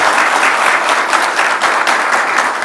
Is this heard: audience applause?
yes